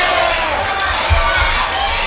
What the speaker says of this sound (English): And just listen at this crowd here at Eagle View Christian Academy.